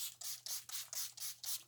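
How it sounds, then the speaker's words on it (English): A Gerard Cosmetics Slay All Day setting spray is pumped in quick succession, giving about seven close, soft, hissing bursts at an even rhythm with no voice heard. "I'm going to be using the Gerard Slay All Day setting spray."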